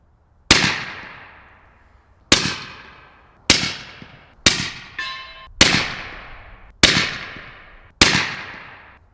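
Seven suppressed rifle shots through a GSL Bushman suppressor, sharp close reports with short decaying tails, spaced one to two seconds apart, with a metallic ring after one shot.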